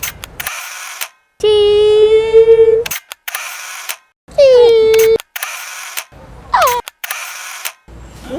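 Several sharp camera shutter clicks sound close by as a selfie is taken. The clicks come in short bursts that alternate with voices.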